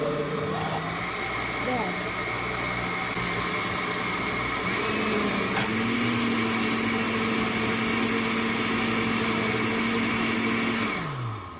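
A countertop blender runs steadily, reblending a nutrient-packed smoothie. Its loud motor drone holds the whole time, with a pitch shift partway through, before it winds down at the end, and a voice speaks briefly over it.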